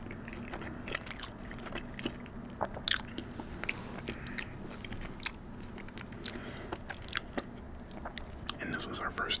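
Close, quiet bites and soft wet chewing of ravioli in alfredo sauce, with irregular crunchy mouth clicks and smacks in an intimate mukbang setting.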